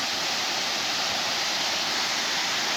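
Steady, dense rush of water pouring over a natural falls in a state park in Oklahoma, a continuous broadband roar with no pauses, fairly close and loud.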